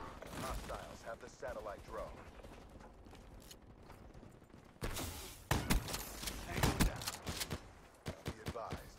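Gunfire in a shooter video game, including shotgun blasts: sharp, loud reports in bursts with clicks and mechanical clatter from reloading, quieter at first and then several close, punchy shots later on, with a voice talking in the background.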